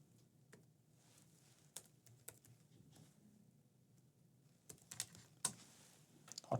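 Quiet, irregular keystrokes on a computer keyboard, soft clicks scattered over a faint background hum and growing a little busier and louder toward the end.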